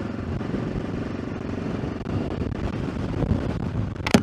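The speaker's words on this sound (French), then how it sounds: "il y a toujours beaucoup de vent" Steady, blustery wind roars across the microphone throughout while riding an AJP PR7 motorcycle in Spain, a dense low rumble with gusting buffets and a sharp rustle near the end.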